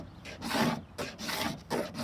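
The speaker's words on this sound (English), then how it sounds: "You just hold the blade like a scraper, and what you're doing is you're just taking off a very top layer of plastic." A knife blade held flat like a scraper shaves the top layer of scratched plastic off a plastic boat hull, giving repeated rasping strokes in a steady back-and-forth rhythm, close and fairly loud.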